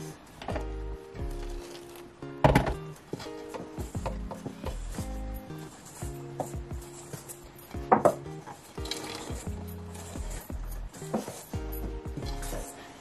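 Finger millet (kurakkan) flour puttu dough is mixed by hand in a bowl, giving soft irregular rubbing and scraping with a few sharper knocks against the bowl, close and fairly quiet.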